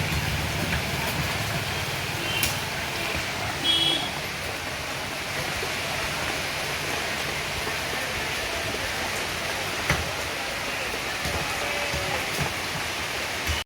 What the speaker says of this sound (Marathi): बाहेर पाऊस चालू आहे बघा जोरदार.